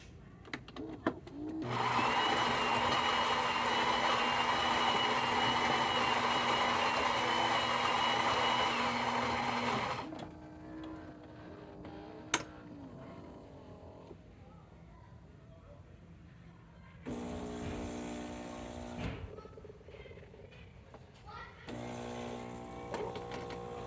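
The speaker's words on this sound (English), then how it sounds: "Now let's do that shot of espresso." A Gaggia Anima espresso machine brews a shot, a loud steady grinding whir for several seconds, then quieter pump buzzing in short bursts with brief mechanical clicks in between.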